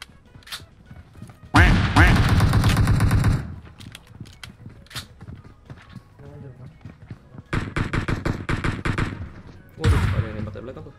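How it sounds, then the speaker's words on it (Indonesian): Rapid automatic gunfire in a shooter video game crackles out in several long, loud bursts, with quieter stretches between them where voices and smaller sounds come through. "ada yang nembak dari belakang tuh"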